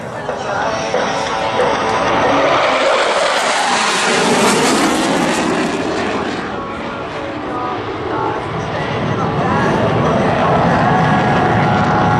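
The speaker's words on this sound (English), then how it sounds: "From the left, the F-A-18 Hornet's carrier brake." An F/A-18 Hornet jet performs a carrier break at an air show, its engine roar loud and continuous, swelling as it passes and slowly fading, with an announcer's voice faintly underneath.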